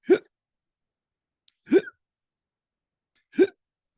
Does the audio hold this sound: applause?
no